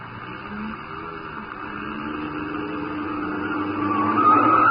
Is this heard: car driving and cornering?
yes